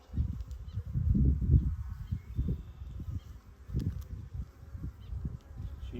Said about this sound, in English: Lots of nurse bees.